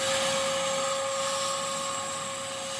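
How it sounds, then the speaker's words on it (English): A loud, steady vacuum cleaner whines continuously while cleaning out the trunk of a 1964 Buick Skylark, its drone holding a constant pitch with no talk. "over there vacuuming out the trunk"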